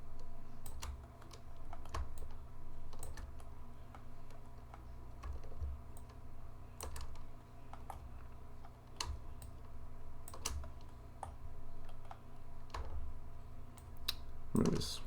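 Rapid computer keyboard typing mixed with mouse clicks while editing character animation offsets in a Friday Night Funkin' engine, steady close-up tapping running throughout with a faint background hum.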